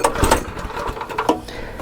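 Pull-start cranking of a Champion 19-inch rear tine tiller engine, with a few quick, loud mechanical chugs and rattles that sputter without catching, close up.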